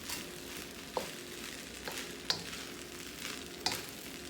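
Lobster, bacon, carrot and corn fried rice being stirred in a hot pan: a steady sizzle with a few sharp scrapes of the spatula at intervals, close and clear, no talking.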